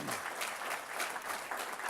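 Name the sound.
applause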